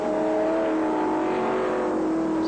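Ford Falcon touring cars racing on a one-mile circuit in the 1981 Australian championship at Calder Park: a loud, steady engine drone at high revs, slightly rising in pitch, with no talk.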